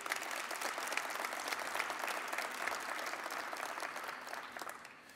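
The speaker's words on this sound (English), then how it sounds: "Please give them a round of applause." Conference audience applauding sponsors at the 2017 NMSDC Conference, steady dense clapping from a large room, fairly distant and soft, fading slightly at the end.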